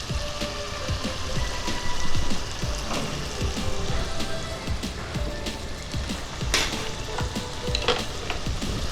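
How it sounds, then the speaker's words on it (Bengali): Bengali spice paste with turmeric and salt frying for a hilsa fish curry, a steady close sizzle with scattered crackles and stirring scrapes throughout, no voices. "এবার মশলাটা খুব ভালো করে কষিয়ে নেব।"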